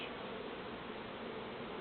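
A dense, steady buzzing of many honey bees in a hive close by, continuous and unbroken throughout.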